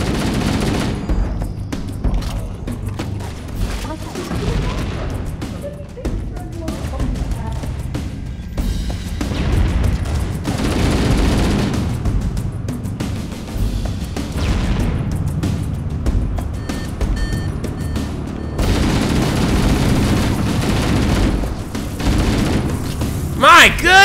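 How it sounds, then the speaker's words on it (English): Explosions set off on reactors in Halo: Combat Evolved land as repeated heavy booms and gunfire-like blasts, loud and continuous for over twenty seconds, with no speech over them. "Use explosives on the other three reactors."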